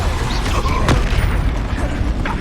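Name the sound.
Depulso spell blast in Hogwarts Legacy video game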